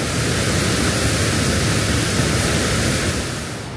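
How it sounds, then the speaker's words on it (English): Whitewater rapid on a river at Betws-y-Coed, a steady broadband rushing roar, loud and continuous throughout with no talk, easing slightly at the very end. "Just a little bit of a whitewater rapid here."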